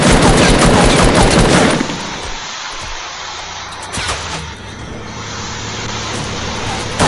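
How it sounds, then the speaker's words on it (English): Video game gunfire aimed at the player: a loud, dense burst of rapid shots up front, then quieter scattered reports over a steady background rumble. "that's where you're getting shot at"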